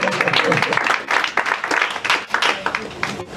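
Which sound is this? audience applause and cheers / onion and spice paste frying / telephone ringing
audience applause and cheers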